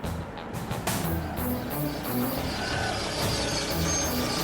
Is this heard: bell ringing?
no